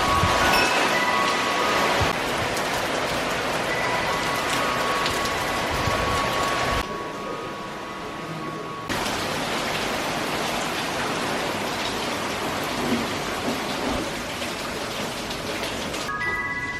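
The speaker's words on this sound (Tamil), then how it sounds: "செம்ம மழை இன்னைக்கு." Heavy rain pours steadily, a dense hiss that stays loud throughout, dipping briefly in the middle before resuming at full strength, with no distinct thunder claps.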